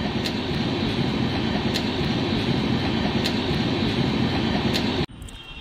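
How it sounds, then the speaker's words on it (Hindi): A train passing by at a station, a loud continuous rumble with rhythmic clickety-clack of wheels over rail joints, steady throughout before cutting off abruptly near the end. "अब ये ट्रेन निकल गई"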